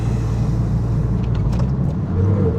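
A Porsche 987.1 Cayman S engine pulls hard, a loud, steady low rumble heard from inside the car, with a slight rise in pitch near the end.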